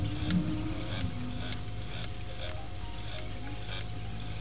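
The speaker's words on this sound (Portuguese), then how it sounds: "E vou fazer uma costura aqui, olha, com o pé de máquina." Sewing machine with a presser foot stitching clear plastic for a toiletry pouch, a steady rapid mechanical whir with faint periodic ticks, close and continuous with no talking.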